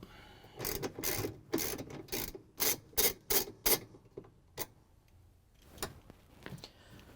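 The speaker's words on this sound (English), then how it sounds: "we're just going to use the extension with the ratchet and 3/8 inch socket again" A ratchet with an extension and 3/8 inch socket backing a bolt out of a GE washing machine transmission, giving a run of quick, close, rasping clicks in uneven bursts, then a few scattered ticks.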